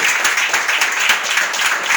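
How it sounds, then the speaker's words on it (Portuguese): A standing congregation in a Portuguese-speaking church applauds loudly and close by, the many claps falling into a lively, pulsing rhythm that rises and dips in quick regular waves. "Vamos aplaudir o Senhor Jesus?"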